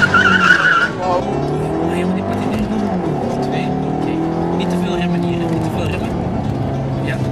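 A car brakes hard and skids on a driving course with long tire squeals and engine noise under Dutch commentary from a Flemish TV car show, after a brief exclamation at the start.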